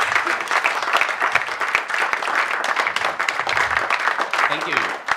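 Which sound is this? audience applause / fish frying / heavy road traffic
audience applause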